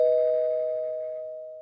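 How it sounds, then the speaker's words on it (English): A single doorbell chime rings out clearly, one sustained tone slowly fading away, with no other sound around it. "Oh, it's the doorbell."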